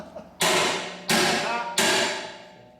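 Three sharp, loud metallic strikes on a Halligan bar during forcible entry training, spaced roughly evenly, each ringing briefly before the next blow, close by with no talk over them.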